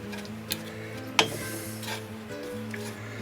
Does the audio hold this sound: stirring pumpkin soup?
yes